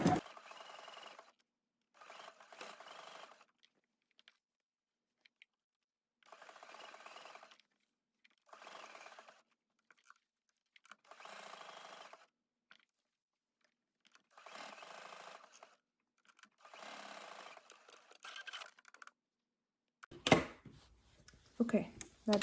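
A domestic sewing machine stitches stretch fabric into tight curves on a pair of girls' underwear, running in several short, steady bursts with pauses between them, close and moderately loud, with no voice over it.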